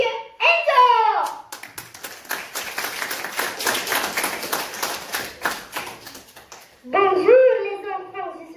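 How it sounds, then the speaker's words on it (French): Applause for the first singer at a children's theatre workshop, a brief run of clapping hands sandwiched between stretches of a voice talking at the start and end. "je vous demande d'applaudir le premier chanteur"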